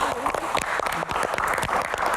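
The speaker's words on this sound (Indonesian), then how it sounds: "Wow, tepuk tangan." An audience at a live stage Q&A event breaks into steady applause, a dense wash of many hands clapping loudly and continuously throughout.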